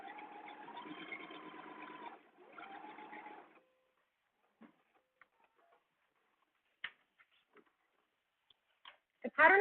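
A sewing machine runs a long basting stitch on a blouse for about three seconds with a brief pause midway, then falls silent apart from scattered faint clicks and handling taps near the end.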